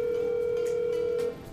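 A telephone line hums with a steady ringback tone during a prank call, one continuous near tone that cuts off just before the end, with no voices.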